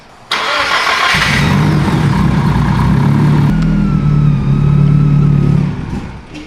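A Nissan 300ZX engine catches on the first start, a loud close crank and fire that settles into a steady, throbbing idle with a slight rise in revs before cutting off near the end.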